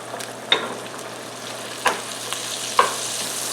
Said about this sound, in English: what I'm going to do now is add 2 tablespoons of butter